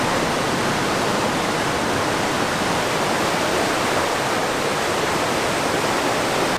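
Steady, dense roar of the Upper Falls of the Yellowstone River, a broad continuous rush of falling water that stays constant throughout, loud and close with no other sounds.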